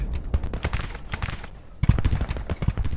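Dense volleys of musket fire and cannon bombardment in the Civil War strategy game Grand Tacticians: The Civil War crackle loudly in rapid overlapping bursts, with a brief lull before another heavy barrage.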